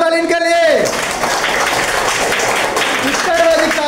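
A classroom of students claps loudly for a classmate, a dense burst of applause filling the room, with a teacher's voice briefly heard at the start and end.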